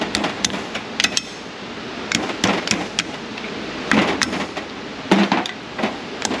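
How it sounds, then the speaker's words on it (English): A bearing is hammered into place on a hub, giving a run of sharp metallic knocks at an irregular pace, close and fairly loud, with a little scraping between blows. "Hammer."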